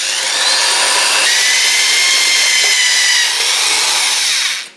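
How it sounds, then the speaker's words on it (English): Power drill boring a hole near the edge of a ceramic pot for a planter, a loud continuous high-pitched grinding whine that holds steady for several seconds before cutting off. "The drill, we go sort of on the edge."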